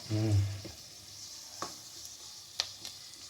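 Onions brown slowly in a pan over a low gas flame, a soft continuous sizzle with a few sharp stirring clicks, after a brief spoken voice at the start.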